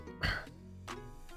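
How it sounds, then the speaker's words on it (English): A single sharp cough close to the microphone, followed by a softer second throat-clearing burst a moment later, with a further faint catch at the end. "oh, I had a cough."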